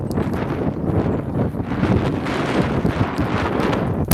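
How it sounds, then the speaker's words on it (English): Strong wind buffets the microphone in a constant low roar and rumble, with gusty swells throughout and no voices. "It's so windy."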